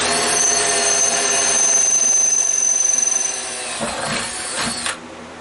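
A drill whines loudly into aluminum with a high, steady screech that lasts several seconds, then breaks up into rattling before cutting off.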